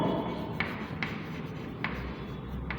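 A C++ statement is written out by hand in soft, quiet scratchy strokes, punctuated by a few light taps at irregular intervals.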